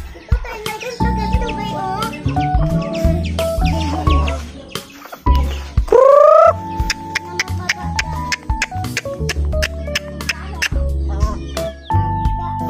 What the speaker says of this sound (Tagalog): yan na pala yung manok namin na natira